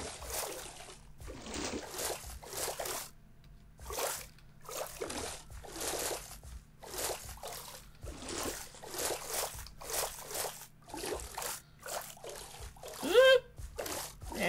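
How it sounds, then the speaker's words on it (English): Crops being watered in the Harvest Festival video game, a run of repeated short splashing, pouring bursts in steady rhythm over a low background hum, with someone talking between the splashes. "So let's go ahead and water all these."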